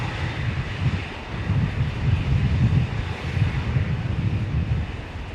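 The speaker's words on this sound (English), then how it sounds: "We don't often see an A330 departing from the domestic terminal." An Airbus A330 departs Brisbane Airport's domestic terminal, its jet engines a steady, distant broadband roar mixed with wind rumble, with no voices.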